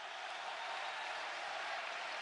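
A basketball arena crowd cheers for Cibona during a Cedevita–Cibona championship finals game, a dense, continuous roar of cheering and applause heard from a distance.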